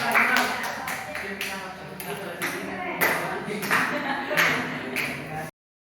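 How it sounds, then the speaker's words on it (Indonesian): A classroom group claps for student group 3 after its presentation. Sharp hand claps come in short irregular bursts, fairly close, with voices mixed underneath until the sound stops abruptly. "tepuk tangan dulu untuk kelompok 3"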